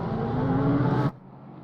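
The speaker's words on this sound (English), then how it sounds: "We'll listen to those cars rumble by here." A loud engine roar with a steady droning hum of GT3 race cars rumbling past at Zolder in the game Assetto Corsa Competizione, cutting off abruptly and leaving quiet hiss.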